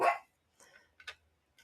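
A dog barks indoors during bag sewing, one loud close bark followed by a few softer, shorter yips and barks over under two seconds, with silence between them.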